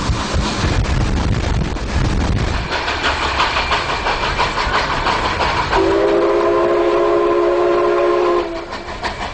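Mikado steam locomotive train running, heavy rumbling rolling noise up close that gives way to rhythmic clatter, then a loud sustained horn or whistle blast of several seconds before it cuts off.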